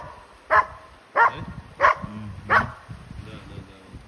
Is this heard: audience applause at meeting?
no